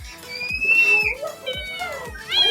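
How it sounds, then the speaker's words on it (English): A newly adopted kitten meows several times, thin rising cries close by, with excited voices talking around it. "we got a cat for Falak"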